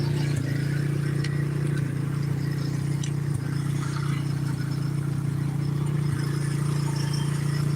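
A KTM motorcycle engine runs fast at around 4,000 RPM with the choke on, a loud, steady, close drone holding constant with no talk.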